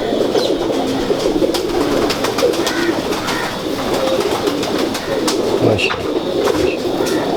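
Pigeons coo in low, throaty rolling calls, several birds close by, over a steady background hum with faint rustling.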